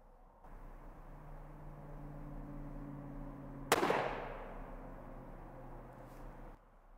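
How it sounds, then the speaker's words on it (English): A single sharp rifle shot from a Sako S20 Hunter in .308 firing 150-grain Nosler Ballistic Tip ammunition cracks loudly midway and decays into an echoing tail outdoors, after a quiet stretch of low background hum. "Now we're going to shoot the Nosler Ballistic Tip in 150 grain."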